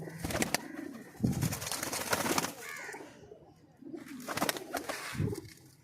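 Low pigeon coos sound in short bursts, mixed with rustling and handling noise, close to the listener.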